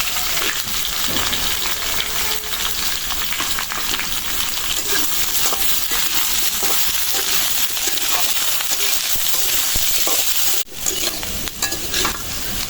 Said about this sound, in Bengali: আলু পেঁয়াজটা ভালো করে ভাজে নিলাম